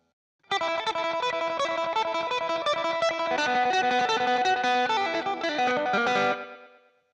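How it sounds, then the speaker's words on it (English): An instrument, likely an electric guitar, plays through a washy, saturated delay during a rock live stream, a dense sustained tone with smeared repeats, loud and alone, then cut off with a short fading tail. "it sounds a little bit more washy, a little bit more um, saturated, I guess, with the delay"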